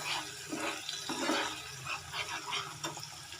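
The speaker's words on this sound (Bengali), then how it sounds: "মশলার বাটিটা ধুয়ে দিয়ে দেবো একটু জল" A little water poured into a spice bowl while rinsing it in a Bengali kitchen, cooking mustard-sauce bata fish, giving a steady splashing, trickling wash at close range with faint clinks, no voices.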